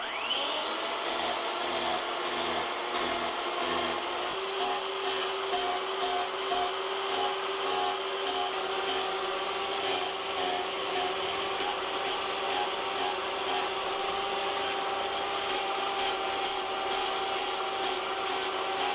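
Rotozip rotary tool fitted with a power gouge carving wood, a steady high-pitched whine held at a constant level throughout, close and alone.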